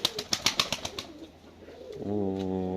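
In a cellar, a pigeon flaps its wings in a quick series of close claps, then after a short lull lets out a steady, resonant coo that carries on alone.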